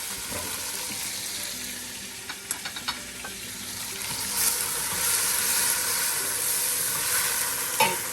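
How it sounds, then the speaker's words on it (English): Two chopped medium tomatoes and a chopped jalapeno go into a pan of browned onions and sizzle quietly, with a few stirring clinks and the frying growing louder partway through. "Put the tomatoes in here."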